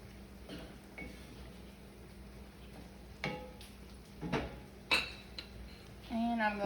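A utensil clinks and scrapes against a hot pot while seasoning is stirred into low-carb spaghetti, producing sparse metallic taps and clatter up close with a faint background hum.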